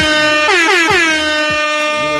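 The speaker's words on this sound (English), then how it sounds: "Let them air horns ride" An air horn sound effect blares loud and close, a single sustained brassy blast that bends in pitch partway through and holds steady to the end.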